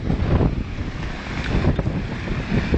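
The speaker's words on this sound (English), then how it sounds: "Like I say, it's a windy day." Strong wind gusting beside a clear garden pond with a waterfall, a steady close roar of buffeting air across the microphone with no voices.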